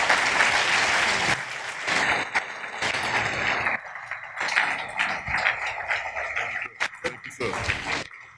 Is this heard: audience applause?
yes